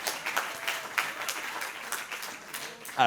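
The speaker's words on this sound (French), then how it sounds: "Applaudissements pour Xavier." Audience clapping at a French maths talk show, a moderate patter of hands under faint voices, ending with a brief voice at the close.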